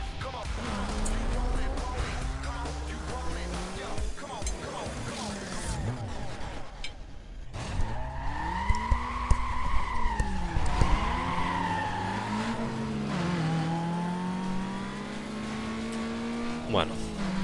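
Race car engine and screeching tire skids from the Need for Speed: Most Wanted video game, revving and sliding throughout under continuous talk from a commentator.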